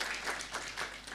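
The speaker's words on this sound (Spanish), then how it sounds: "Ya, aplauso entonces." Scattered congregation applause during a Sunday church service, a soft, steady patter of many hands clapping at a moderate distance, fairly faint, with no talking over it.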